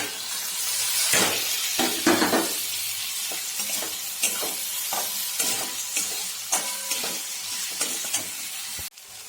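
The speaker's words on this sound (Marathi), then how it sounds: "हा आता ओला मसाल्याचं वाटण हे सुंदर असं भाजलेलं आहे आणि त्याच्यामध्ये मी घालते आहे आता टोमॅटो" Tomato frying in a roasted wet masala paste in a pan for chole bhaji, a constant close sizzle broken by repeated scraping stirs and clinks of the spoon.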